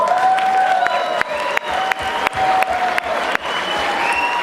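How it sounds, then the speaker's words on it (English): A roomful of people at a ten-year company ceremony applauds significant others, husbands and wives, with steady dense clapping throughout, close and loud, with faint cheering and a light whistle-like tone above. "let's give them a very good applause"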